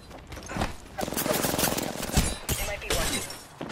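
Enemy gunfire in Apex Legends comes as quick, sharp bursts of shots at moderate loudness, mixed in with a player's urgent talk.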